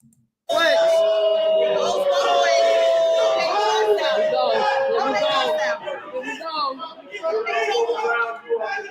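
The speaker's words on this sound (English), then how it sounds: "there's that little crowd making all that noise" A small crowd at a city council meeting erupts in loud overlapping shouting, yelling and chatter, sustained and close, with voices clashing and rising in waves.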